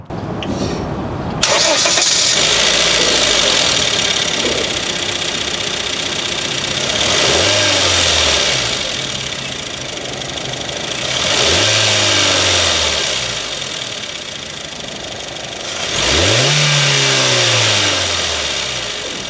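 A Honda City 1.5 car engine cranks and starts, then settles into a steady idle broken by three rising revs that climb and fall back, close and loud.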